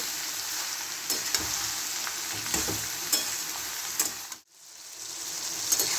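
Sliced ridge gourd frying in a pan over high heat, a continuous dense sizzle with occasional stirring scrapes, briefly cut off for a moment before the hiss returns.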